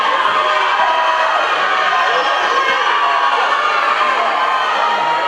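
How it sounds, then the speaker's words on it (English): A large crowd at an Empress South Africa 2018 pageant roars and cheers wildly, a dense, loud wall of shouts and whoops sustained without break. "crowd's going insane"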